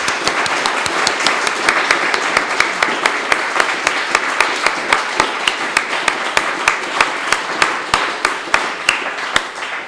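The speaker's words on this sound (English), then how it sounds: "Let's give our poets a round of applause," A live poetry audience claps steadily for the poets, dense continuous applause filling the room with sharp regular claps standing out on top, sustained for the whole stretch.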